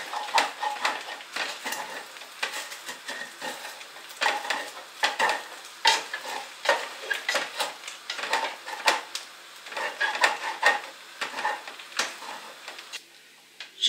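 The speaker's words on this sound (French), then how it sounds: "Celle-ci, elle est mieux pour gratter au fond de la casserole." A spoon scrapes and stirs repeatedly against the bottom of a saucepan with oil, steady rhythmic strokes with faint sizzling underneath, close and fairly loud.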